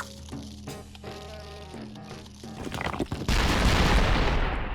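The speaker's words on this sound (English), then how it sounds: "Some little explosions, but still very, very deadly." Small explosions from the Doom-shroom in Plants vs. Zombies 2 burst in a rapid crackling volley near the end, loud and dense after a stretch of tonal game music and effects.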